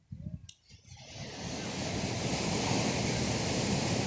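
An ocean wave breaks and surges into a loud, continuous rushing wash of surf at Los Cabos, close by, after a brief moment of quieter splashing.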